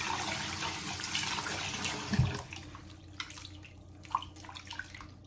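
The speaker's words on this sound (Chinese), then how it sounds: "给它淘洗一下" Small snails being rinsed and washed in water to clear out sand, a steady running and sloshing wash with a brief splash partway through and quieter trickles and drips afterward, no talk.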